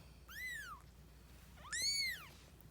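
A healthy, spotted kitten about three weeks old meows twice, each a high, bending cry, the second longer and stronger, heard close but fairly soft against a quiet room.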